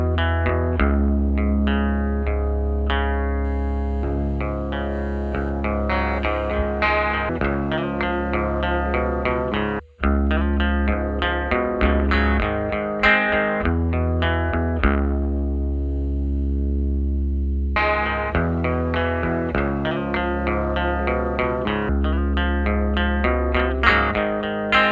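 A clean electric guitar through a Dynacomp compressor pedal plays a punchy sustained riff of ringing chords filling the whole stretch with one momentary dropout, no voices.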